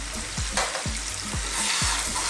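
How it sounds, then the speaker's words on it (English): Chicken balti frying on high heat in a karahi sizzles steadily while a utensil stirs it in four rhythmic scraping strokes, close and clear. "So with the heat on a kind of high heat still, let's mix this around."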